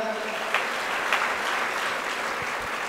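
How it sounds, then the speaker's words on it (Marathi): Audience applause at a Marathi birthday felicitation ceremony, a steady broadband patter of many clapping hands lasting about three seconds, with a couple of sharper claps standing out near the start. "त्यांच्यासाठी एकदा जोरदार टाळ्या होऊ द्या"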